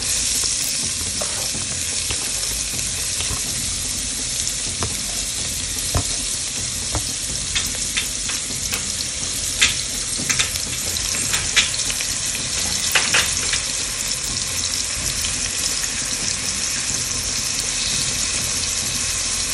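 Onions fry in hot oil for a mince masala, a steady loud sizzle throughout with occasional sharper crackles and stirring scrapes.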